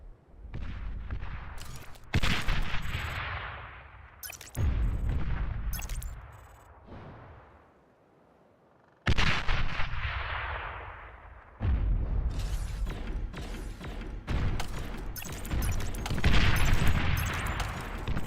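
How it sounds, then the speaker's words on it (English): Artillery fire in a StarCraft: Brood War match comes as loud, repeated booming volleys in separate bursts, with short pauses between barrages and one longer lull midway. "Oh, he's got some artillery."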